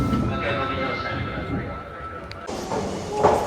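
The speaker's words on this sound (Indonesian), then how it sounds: "扉が閉まります。" Train doors closing at a Japanese railway station platform in Osaka, with a steady rumble of the train and station ambience, a sharp burst of closing-door noise near the end, and voices faintly in the background.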